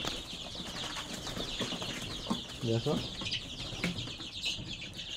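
Small native chicks cheep and scuffle, running about amid background noise, with a short burst of clucking near the middle and a brief spoken word.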